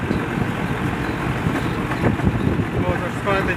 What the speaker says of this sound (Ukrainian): вітер такий холодний